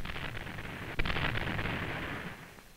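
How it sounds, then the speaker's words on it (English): A single heavy naval gun blast booms out from a World War II warship, followed by a rumbling, rolling roar that slowly fades. "The gunfire support ships had their hands full, supplying called fire for the assault troops."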